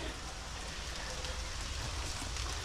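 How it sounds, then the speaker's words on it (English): Steady rain hisses without a break over a backyard swimming pool, a broad even wash of patter that stays at a constant level throughout. "It's raining a little harder now"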